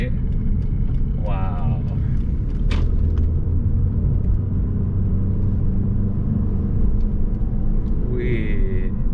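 A BMW E46 car drives along with a steady, loud low engine and road rumble from inside the cabin, and an occupant talks briefly over the noise.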